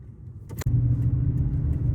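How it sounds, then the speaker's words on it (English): Low steady truck engine idle rumble heard from inside the cab, around 49 to 50 decibels, with a short sharp click or rattle near the start. "the ambient sound with just the engine running"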